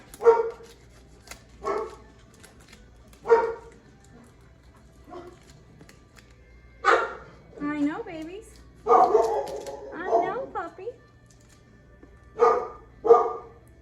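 Several dogs bark in short bursts at a household door as the husband comes home, medium distance, with whines and yips between barks and a voice talking over them.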